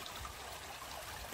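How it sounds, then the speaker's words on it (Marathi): Water flows in a freshwater stream among rocks where a crab trap is being set, a faint, steady trickling rush over a short moment with no voices. "तिकडून पाणी वाहते, तिकडून असा या साईडला पाणी जाते"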